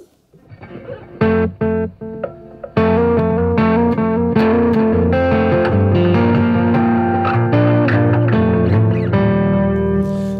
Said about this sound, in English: So the final effect I added then was I added the reverb.